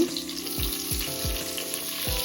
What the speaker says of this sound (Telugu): వేగనివ్వాలి. ఉల్లిపాయలు వేగాయి.